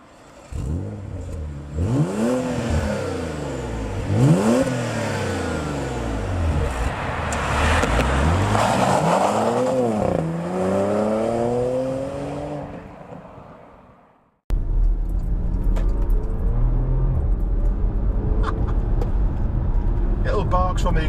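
A Porsche Macan Turbo engine fires up and revs hard, pitch sweeping up and down through repeated throttle blips, then a steady loud road drone after a brief cut.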